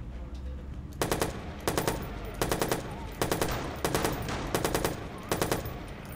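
Bursts of rapid automatic gunfire in the Watch Dogs video game, several short volleys fired in steady succession, loud and close, with no talk over them.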